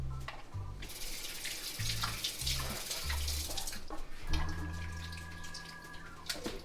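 Water runs from a kitchen tap into a sink while small potatoes are washed, a steady splashing stream with soft clunks and low hums in the background.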